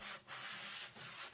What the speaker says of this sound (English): This here is 200 grit sanding pad, so doesn't hurt to go over it